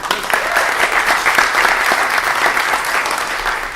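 Audience applause at a live discussion event in Austin, Texas, a loud, dense, continuous roar of many hands clapping that holds steady throughout.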